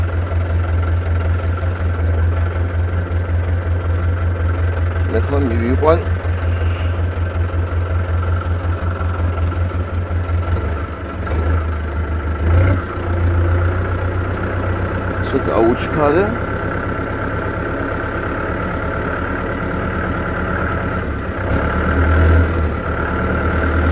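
Tractor engine idling and running steadily at a vineyard grape harvest in Kakheti, a constant low rumble close by, with people talking over it throughout.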